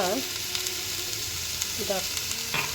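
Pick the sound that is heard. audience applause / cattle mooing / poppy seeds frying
poppy seeds frying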